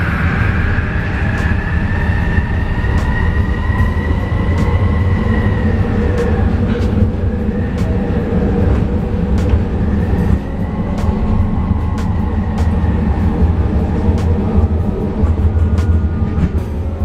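A SkyTrain metro train running in Minecraft, a steady loud rumble of wheels on track with a rising and falling electric motor whine throughout and no talk.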